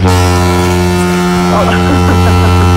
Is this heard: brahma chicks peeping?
no